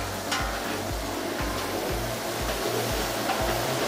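Ginger garlic paste sizzling in a hot pan for Mughlai mutton stew; a continuous hiss of frying with faint stirring scrapes, close and steady throughout.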